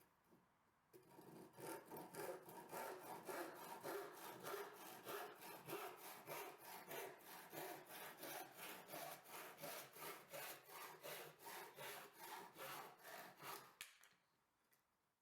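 A hand saw cuts through a clamped piece of recycled wood for a Christmas tree branch in steady back-and-forth strokes, rasping rhythmically and closely for about thirteen seconds before stopping.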